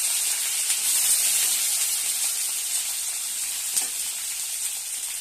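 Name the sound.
vegetables frying in very hot oil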